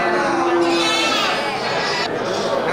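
Goats and sheep, including rams, bleating at a crowded animal market, with sustained bleats rising over a dense background of crowd noise and nearby voices.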